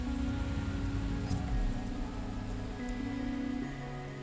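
Rain falls in the video game XING: The Land Beyond, a steady soft patter laid over a sustained musical drone with shifting low tones, moderately quiet and continuous.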